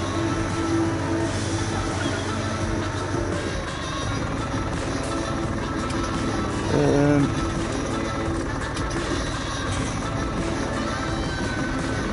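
A train in a farming video game rumbles past loudly and continuously, with clattering wheels and a swell of noise partway through.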